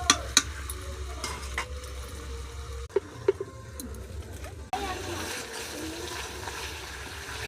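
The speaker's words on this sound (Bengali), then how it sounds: "ঢাকনাটা খুলে মা আবার নেড়ে নিচ্ছে।" Chicken meat is stirred in an open pot with fried potatoes nearby, giving soft scraping and gentle sizzling under a background hum, with a few sharp clinks of the spoon against the pot.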